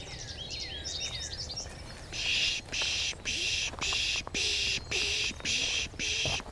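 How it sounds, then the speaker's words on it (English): A goldfinch flits between trees on a bird walk, giving a run of buzzy, wheezy chirps in repeated bursts, clear and fairly close, with a few other thin bird notes early on. "There was a goldfinch that just flew from tree to tree. He's making that buzzy kind of chirping sounds."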